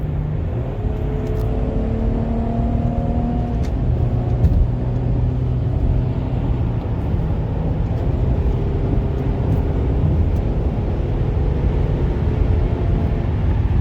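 Mercedes-Benz GLE accelerating hard through rush-hour highway traffic, heard from inside as a loud, steady engine and road rumble with a rising drone and no talking.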